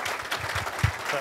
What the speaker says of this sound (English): So give Mike a big round of applause